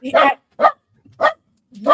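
A dog barks in a few short, loud bursts spaced across two seconds, each bark sharp and close, with no talking between them.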